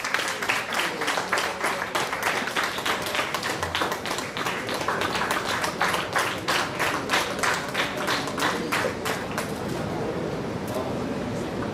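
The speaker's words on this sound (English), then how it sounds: "Let's have the applause going." Audience applause during a felicitation ceremony on stage, a long, steady stretch of crisp, rapid clapping that stays even throughout with a little background noise and voices beneath it.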